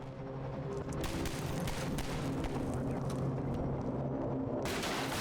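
Rapid gunfire and booming impacts from the game Half-Life 2 in City 17 form a dense, loud, continuous barrage of bursts throughout, with no clear speech over it.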